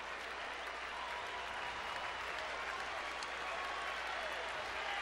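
A crowd at Fenway Park cheers and claps during the bottom of the ninth of a 1989 Blue Jays–Red Sox baseball game, a dense, steady roar of applause that stays loud and unbroken for the whole stretch.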